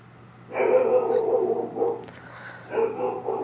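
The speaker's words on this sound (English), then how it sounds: "I apologize about the dogs in the background." Several dogs bark in the background in short bursts, muffled and fairly distant, with no talking over them.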